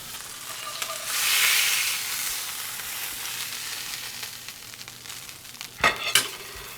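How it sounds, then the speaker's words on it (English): Grouper cheeks cook in a cast iron skillet with a soft, steady sizzle and frying hiss, broken near the end by a couple of sharp clicks from a utensil. "We're gonna go ahead and cook the other half in that shallow poach."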